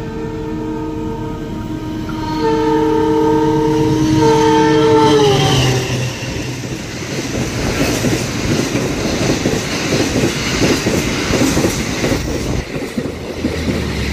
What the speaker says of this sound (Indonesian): itu dia kereta api Argo Semeru ngebut